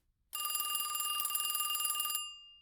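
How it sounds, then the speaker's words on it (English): A payphone in a desert phone booth rings once, a loud, bright metallic bell trill lasting nearly two seconds and then fading out against near silence. "Suddenly a loud ringing pierces through the air."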